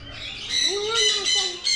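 Birds squawk loudly and close together in a noisy flock, harsh overlapping calls filling the moment with no clear gaps.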